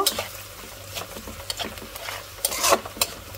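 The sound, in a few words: stirring and frying malabar spinach curry in a pan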